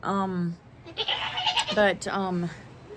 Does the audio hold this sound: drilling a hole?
no